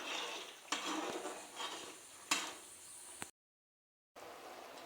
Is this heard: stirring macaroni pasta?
yes